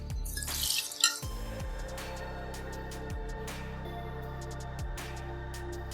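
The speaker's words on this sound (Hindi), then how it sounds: "ये आधा कप पानी डाल रही हूँ" Half a cup of water is poured into a blender jug holding washed mint leaves, a short splashing pour followed by steady trickling and dripping, close and fairly quiet, with no speech.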